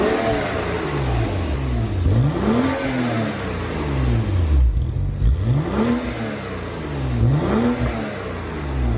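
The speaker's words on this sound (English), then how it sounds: "let's go ahead and start up the car real quick" BMW F10 535i with a custom Valvetronic exhaust fitted to otherwise stock mufflers, revving loudly and close by in repeated rising and falling sweeps, about four throttle blips with a brief dip in between.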